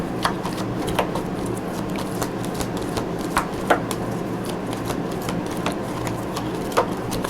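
A deck of tarot cards is shuffled close by, making a steady soft riffling patter punctuated by sharp irregular snaps and taps.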